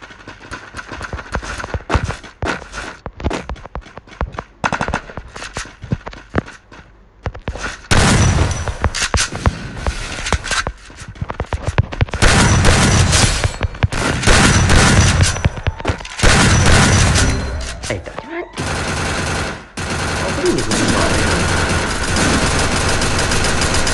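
Rapid gunfire bursts and fusillades in the mobile battle game Free Fire, ranked clash squad mode, loud and dense, with engine hum and running steps between volleys and sustained heavy firing through the second half.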